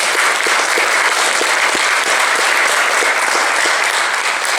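A big round of applause from a crowd at a life celebration event, dense steady clapping close and loud throughout without a break.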